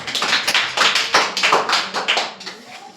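A class of sixth-grade students claps in a science lesson, a short burst of a few hands with distinct, uneven claps close by, fading out after a few seconds.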